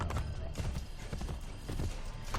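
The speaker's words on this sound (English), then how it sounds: "why are you riding a horse through the middle of town?" Horse hooves clip-clop in a brisk, steady rhythm as a horse is ridden through town streets in Assassin's Creed: Brotherhood, close and clear with soft background game ambience.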